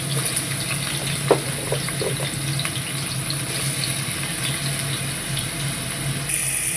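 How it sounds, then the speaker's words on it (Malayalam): Potato and mixed vegetables frying in a little oil in a pan give off a steady, even sizzle, with a few soft clicks and knocks along the way and no voices. "കുറച്ച് എണ്ണ ഒഴിച്ച് പൊട്ടറ്റോ വെജസ് ഫ്രൈ ചെയ്തെടുക്കാം."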